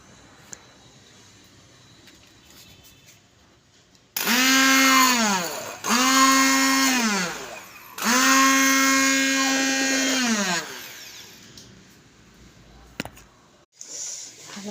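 A hand blender whirs in three bursts, each revving up to a steady high whine and cutting off, loud and close, with short pauses between.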